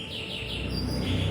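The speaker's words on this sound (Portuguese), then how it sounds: "Eu tenho aqui uns passarinhos e eles gostam de cantar bem na hora que a gente está falando." Small birds chirp and trill nearby in a continuous high twittering that rises and falls, fairly loud over a low background hum.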